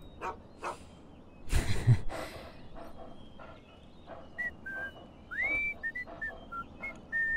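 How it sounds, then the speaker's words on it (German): Whistling in the video game Fallout 3: a string of short, clear whistled notes and one rising slide, moderately loud over a low game background, following a couple of breathy noise bursts. "Wer pfeift hier so?"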